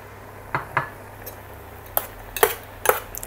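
Shrimp stir-fried in a pan with minced pork, a metal spatula clinking and knocking against the pan in sparse, irregular taps over a quiet background.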